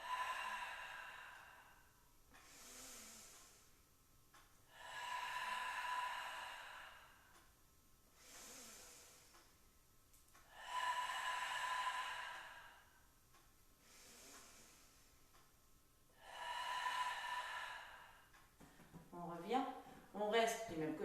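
Slow, deliberate breaths during a Pilates exercise, about four long audible exhales spaced a few seconds apart with quieter inhales between, close and clear, followed by brief talking at the end.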